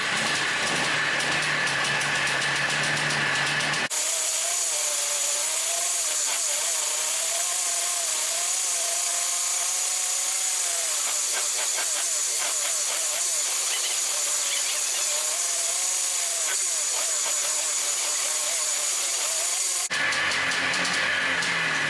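Polaris 300 ATV engine running after reassembly without its air cleaner, a loud steady buzzing idle that cuts in abruptly and runs continuously, heard alone.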